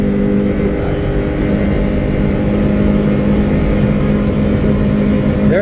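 A 2019 Osprey 162 speedboat engine runs flat out at full throttle against the rev limiter, a loud, steady, close roar that holds without a break.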